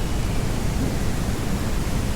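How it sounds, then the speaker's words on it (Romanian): Storm wind roaring through trees on a farm, a dense continuous rushing noise with no breaks, loud and steady throughout. "Bă, uite cum face copacul. Da, păi e furtună."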